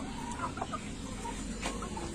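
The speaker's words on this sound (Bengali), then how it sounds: "এখানে অল্প কিছু টাইগার মোরগ আছে" Tiger roosters in a small poultry shed give scattered clucks and short calls close by, over a steady farm background with no talk.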